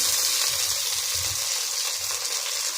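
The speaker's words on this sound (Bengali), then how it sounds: "পেঁয়াজটা কষানো হয়ে গেছে এখন টমেটো দিয়ে দিলাম" Tomatoes dropped into a pan of frying onions: a steady, close hiss of sizzling oil with soft bubbling underneath, continuous and even, no voices.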